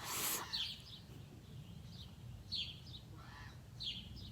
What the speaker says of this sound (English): Some noisy bird is over there.